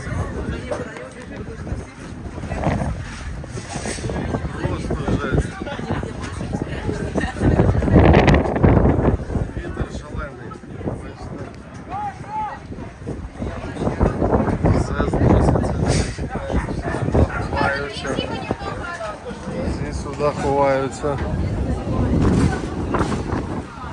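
Strong storm wind in Odesa buffets the microphone in continuous gusty roars, with people talking throughout.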